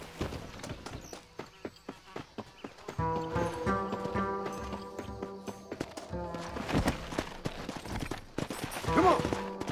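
Hoofbeats of a ridden horse in Red Dead Redemption start as sparse, evenly spaced thuds and then blend into a steady gallop under a swelling musical score, with a brief voice near the end.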